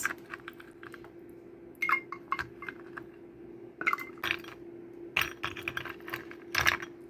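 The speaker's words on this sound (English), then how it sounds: "Let's add in some ice." Ice cubes clink and rattle into a cup in several short bursts, crisp glassy knocks separated by brief pauses.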